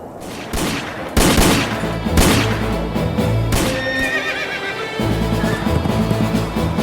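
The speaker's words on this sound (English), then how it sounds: "Horses! The horses are running away!" Horses neigh and whinny with hooves clattering as they bolt in a Spanish-language audio drama, while sharp gunshot bursts crack out loudly near the start and the chaotic stampede continues throughout.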